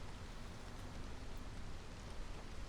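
Heavy rain in the video game Against the Storm, a steady dense hiss of falling water filling the whole stretch evenly, with no talking over it.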